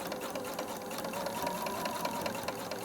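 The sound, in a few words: sewing machine stitching in the ditch on a quilt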